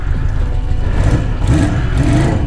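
A 1982 Honda CB650 Nighthawk motorcycle engine runs close and loud, with a rough, throbbing idle that swells into short revs.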